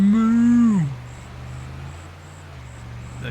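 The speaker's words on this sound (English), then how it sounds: "The cow goes moo." A cow in the Farming Simulator 25 farm game gives one drawn-out moo that slides downward in pitch and fades within a second, leaving a low steady background hum.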